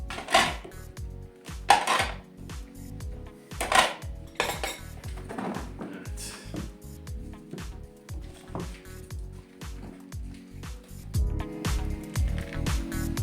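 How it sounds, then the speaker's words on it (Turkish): Plates and cutlery being gathered up, repeated clattering clinks and scrapes of dishes and metal utensils in an uneven rhythm, close and fairly loud throughout. "tabaklarımızı toplayalım"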